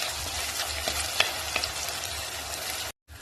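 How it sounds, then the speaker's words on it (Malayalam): Garlic and shallots frying in a pan while being stirred: a steady close sizzle with small scraping stir sounds, ending abruptly. "ഇനി നമുക്ക് വെളുത്തുള്ളി, ചെറിയ ഉള്ളി, നമുക്കിതൊന്ന് ഇളക്കി കൊടുക്കാം."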